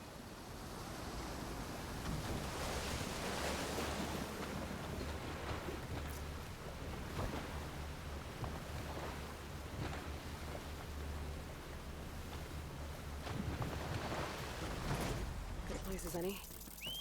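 Waves and water rush around a skiff out on the water in Horizon Forbidden West, a steady broad surf-like wash with periodic swells continuing for the whole stretch.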